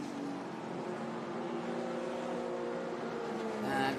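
Vintage race cars roar past at Laguna Seca, a steady engine drone at moderate distance that swells near the end as a car closes in.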